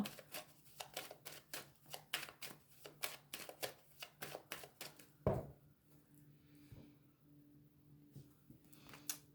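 A deck of playing cards is shuffled in a fast run of crisp, close riffling snaps. A sharp knock follows when the deck is cut. After that, a quieter stretch with faint shuffling.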